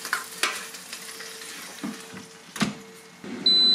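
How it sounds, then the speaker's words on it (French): Meat is turned over in the basket of a 1700 W hot-air fryer at mid-cooking, with scraping and clattering of utensils against the basket over a steady fan hum and soft sizzling. "On va retourner la viande."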